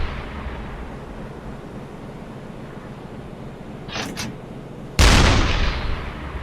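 Artillery rounds fire in the Uboat submarine game, with a quiet rumbling background, a brief double crack, then one loud booming shot that slowly fades away.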